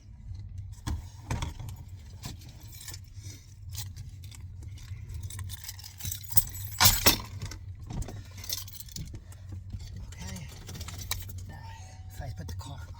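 Car keys jangle intermittently inside a 2013 Ford Mustang as the ignition is turned, with a sharp metallic burst midway over a low steady engine hum and some faint talk.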